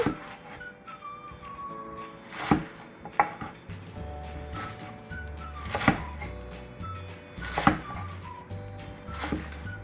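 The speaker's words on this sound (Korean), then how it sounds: "쪽파는 이렇게 한 7cm 되게 이렇게 잘라 주시면 되겠어요" A kitchen knife chops green onions (chives) on a cutting board for cabbage geotjeori kimchi, with sharp irregular knocks spaced a second or two apart over a quiet background.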